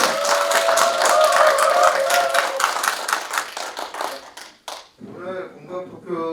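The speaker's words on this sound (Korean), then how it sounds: "큰 박수 한번 더 부탁드립니다" Audience clapping at a community talk show on single-person households, loud and sustained with a tonal hum beneath, fading out as a voice begins speaking at the end.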